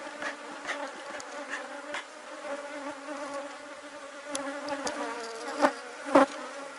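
Bees buzz steadily around hive boxes in the afternoon, a dense continuous drone with individual insects swelling louder as they pass close by.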